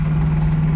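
A big engine idles steadily and loud at close range, a deep continuous hum with a faint irregular knock running through it, and no voices.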